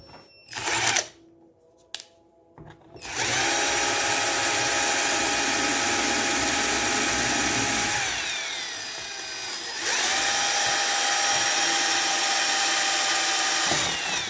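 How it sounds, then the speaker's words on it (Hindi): Lightweight power drill boring into a 4mm acrylic sheet, a loud, steady whine after a few short starts, easing lower partway through and then rising back to full speed. "लाइट वेट ड्रिल यूज़ करने का ये फ़ायदा है कि आपका एक्रेलिक टूटने का ख़तरा नहीं रहता।"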